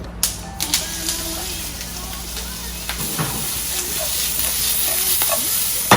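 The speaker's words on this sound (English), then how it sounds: "get the pan nice and hot and add a little bit of oil, and then we're gonna add in the chorizo" Chorizo dropped into a hot oiled pan, a sharp clatter at the start, then a steady sizzle and hiss with scattered clicks and small pops, with some talking.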